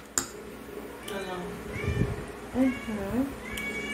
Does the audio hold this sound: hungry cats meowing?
yes